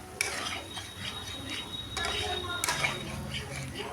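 Spice paste frying in a pan is stirred with a metal utensil, giving steady scraping and clinking over a low sizzle, with a couple of sharp knocks against the pan.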